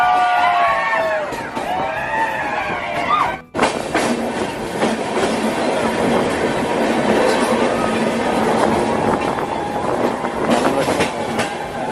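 A passenger train running through the hills toward Araku, a loud close rumble of wheels with rhythmic rail clatter, briefly muffled before it opens into a steady roar, with voices faintly audible in the carriage.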